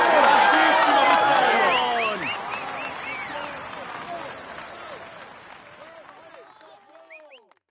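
A Tour de France crowd on the Champs-Élysées in Paris applauds and cheers the white jersey Egan Bernal, loud clapping and whoops bursting at first and then thinning out over several seconds as a voice speaks over it.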